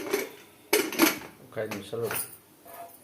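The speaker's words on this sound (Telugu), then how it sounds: "కుక్కర్ మూత పెట్టేస్తుంది" Metal clatter of a pressure cooker lid being set and closed in a home kitchen while mutton tripe (boti) curry cooks, with several sharp clanks and rattles over brief speech.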